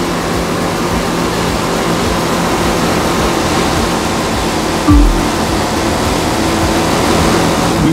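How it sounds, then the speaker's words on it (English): Broad, rushing wash of boat wake and waves on the Hudson River in the racing game The Crew 2, a steady loud roar with a brief low thump midway and no voices. "Not to mention the waves created by you and your competitors."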